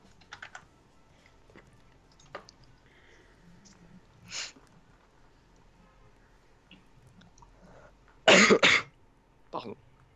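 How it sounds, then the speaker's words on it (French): A person coughs during a Minecraft voice chat, a few sharp bursts, the loudest a close double cough, scattered among quieter clicks and faint background sounds. "J'ai pas éternué, ok, j'ai toussé."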